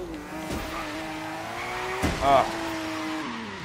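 TVR Sagaris engine in Forza Horizon 3 revving high, a steady droning tone with rising pitch sweeps and a brief tire-squeal burst, loud and close.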